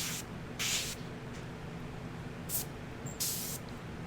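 Airbrush swapped from a Badger to a Paasche, spraying strong red paint to draw veins on a flesh-toned piece for mechanical bat wings; a few short hissing bursts stand out over a steady low background hum.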